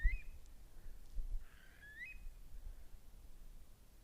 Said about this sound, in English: Oh, it's an oyster catcher.